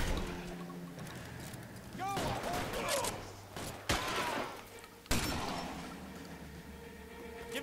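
Video game shootout with a fusillade of gunshots, sharp bursts cracking out over a busy battle mix, including a couple of loud close blasts near the middle, while characters speak in the background.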